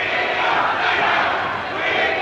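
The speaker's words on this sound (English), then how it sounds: "here he is being booed in person" A crowd boos Winston Churchill in person, a dense, sustained roar of many voices holding steady and loud throughout without letting up.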